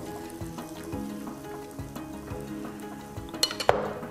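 Okonomiyaki batter cooks gently in a pan with a soft, quiet sizzle, joined near the end by a few light clinks of utensils against the pan; no one speaks.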